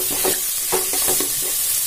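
Onions for rava upma frying in hot oil, stirred in quick rhythmic spatula strokes over a loud close sizzle.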